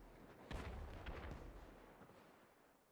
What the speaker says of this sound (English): Chain explosion of cars, maybe.